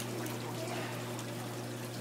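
Water pouring and trickling steadily onto fingers, a continuous close splashing stream with a low hum beneath and no voices.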